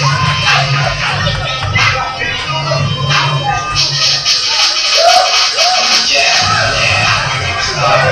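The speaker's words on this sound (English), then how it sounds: "Getting the crowd pumped up." Loud wrestling crowd at a live CCW event roars, yells and whoops during a wrestler's ring entrance, a dense continuous wash of cheering with scattered shouts and shuffling, mixed with some indistinct voices.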